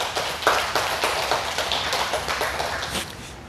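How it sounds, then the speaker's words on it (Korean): Congregation applause during a Korean Sunday praise worship service in a church, dense sustained clapping filling the room steadily throughout. "우리가 하나님께 영광의 박수 올려드리겠습니다"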